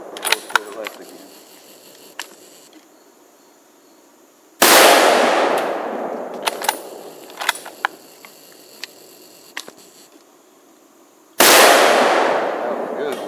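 Two loud, sharp rifle shots from a Mossberg ATR 100 fired at cans outdoors, each with a long decaying echo, separated by quiet stretches with small clicks and handling noises.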